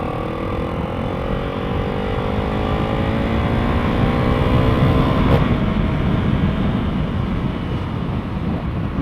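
A KTM Duke 390 motorcycle is ridden along a road, its engine a steady, loud drone with shifting pitch. Heavy wind rush runs throughout.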